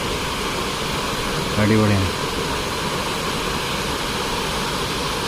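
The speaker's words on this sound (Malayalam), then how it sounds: "അങ്ങനെ ഗൈസ് ഫൈനലി വെള്ളച്ചാട്ടം കണ്ടു." A waterfall reached along an eco-tourism trail roars as a steady, dense wash of rushing water, with a brief spoken remark partway through.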